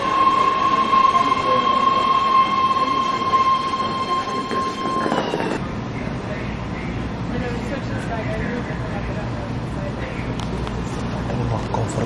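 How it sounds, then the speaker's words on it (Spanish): A BART metro train in Berkeley runs loud and steady with a sustained tonal whine that cuts off partway, then a lower rumbling drone continues, with faint voices under it. "Estamos esperando el BART, el metro que nos lleva a la Universidad de Berkeley."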